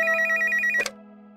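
A telephone rings with a rapid trilling bell tone, then stops abruptly with a click as the call is picked up.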